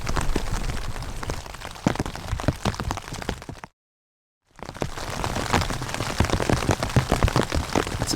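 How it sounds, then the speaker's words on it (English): Steady rain patters densely on a taut tent in the mountains at about 35 degrees, drops tapping close by, broken by a short silent gap before the pattering resumes. "Listening to the sound of the rain on the tent."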